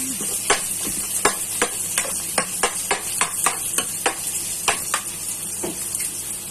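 Garlic frying in a pan for pork caldereta, a steady close sizzle broken by regular scraping strokes of a spatula stirring about twice a second.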